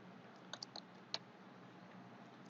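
A few sparse, quiet clicks of keys on a computer keyboard as a name is typed into a Microsoft Word document, close and isolated against a faint steady hiss, with no talk.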